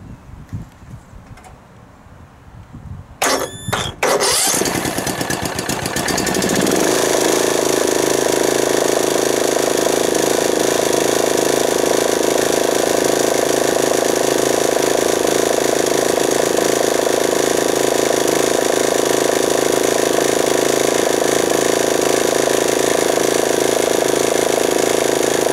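A riding mower's engine cranks in a few sharp bursts, fires, and then settles into a loud, steady idle that drones on alone for about twenty seconds.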